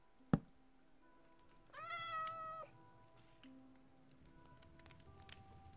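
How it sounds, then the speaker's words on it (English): A single short cat meow sounds in the video game Minecraft, a clear mid-pitched cry lasting under a second, preceded by a sharp tap and set over a quiet game background. "I hear a cat, but I don't see a cat."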